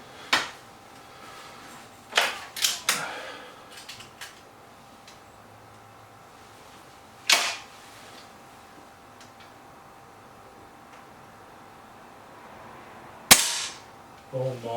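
Air rifle shots from a Webley VMX Quantum and a BSA Lightning SE ring out as sharp, isolated cracks spread across the stretch, a few followed by quick metallic clicks of cocking, in an otherwise quiet setting.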